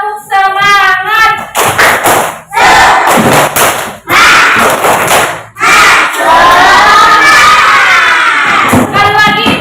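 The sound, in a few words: class doing a rhythmic clapping chant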